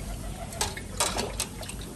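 Water is poured into a pot of fried potatoes and peas, a soft splashing trickle with a few brighter gushes over a low background hum, close by and with no talking.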